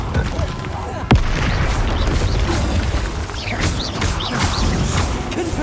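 Confringo and Bombarda spell blasts go off in the game Hogwarts Legacy as repeated booms and crashes over busy game sound, with a sharp hit near the start and a person talking throughout.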